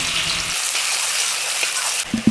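Thinly sliced onions fry in a pan of oil for an Andhra stuffed brinjal curry, giving a loud, dense, hissing sizzle throughout that ends with a couple of clattering stirs.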